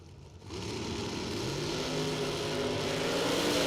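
A drag racing car at a Finish Line Customs Superbucks Showdown launches off the starting line, engine rising from a low rumble to a loud, sustained roar with a steady climb in pitch.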